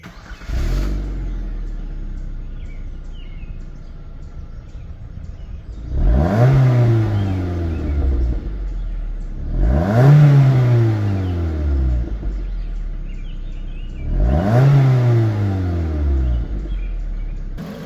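A 2008 Mazda 3's 2-liter engine idles, then is revved three times, each rise climbing and falling smoothly, loud and close.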